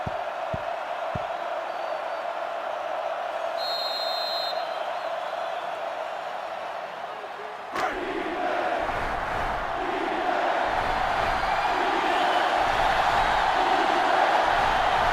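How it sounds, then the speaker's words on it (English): Stadium crowd in the NCAA Football 2005 video game roaring continuously for fifteen seconds, a dense steady wash of cheering that swells louder around the midpoint and stays intense to the end, with no talk over it. "this crowd is going absolutely insane"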